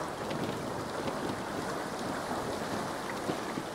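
A sailing ship moves through wind and water in the game Pancake Sailor, with a steady, fairly faint wash of wind and waves and no voices.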